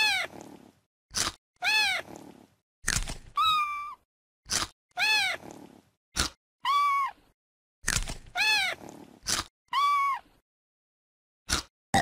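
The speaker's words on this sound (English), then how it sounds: "Do you want to feed your kitten?" A kitten in the CBeebies My Pet and Me video game meows repeatedly, clear, loud and close, with short sharp clicks and crunches between the cries and silent gaps in between.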